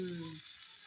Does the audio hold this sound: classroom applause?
no